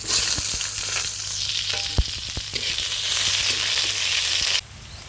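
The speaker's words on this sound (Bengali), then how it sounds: "পেঁয়াজগুলো ভেজে নেবো সঙ্গে" Onions fry in hot oil in a village kitchen pan with chili, panch phoron and bay leaf for dal, giving a steady, close sizzle with scattered pops and crackles throughout, then dropping sharply near the end.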